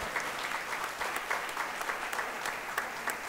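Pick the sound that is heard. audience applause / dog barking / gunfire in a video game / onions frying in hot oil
audience applause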